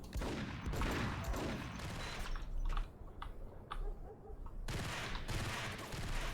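Bursts of gunfire in the Max Payne shooter game, rapid crackling volleys that start and stop, with a brief quieter lull in the middle before the shooting resumes.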